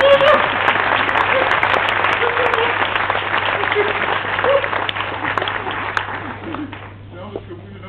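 An audience at a live comedy show bursts into loud, sustained applause that gradually thins and fades out toward the end.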